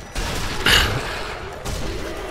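Gunfire in the co-op shooter game Sniper Elite: Nazi Zombie Army, with a sharp burst of shots near the start and a second fainter burst later, over a low background hum.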